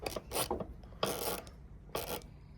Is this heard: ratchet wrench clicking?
yes